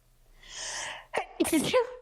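A single loud, close sneeze with a drawn-in breath before it, followed by a brief voiced tail.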